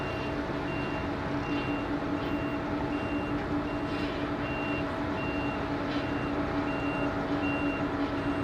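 Steady, evenly spaced reversing beeps from a scissor lift on an airport apron at Anchorage, repeating about every 0.6 seconds over a constant low engine and ground-equipment rumble.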